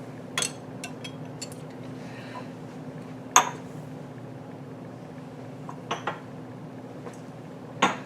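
Laboratory glassware being rinsed under a steady hiss of running water, with a few sharp glass clinks and knocks spaced through it, close by and with no one talking.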